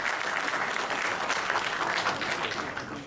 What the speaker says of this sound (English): Give Najib a clap.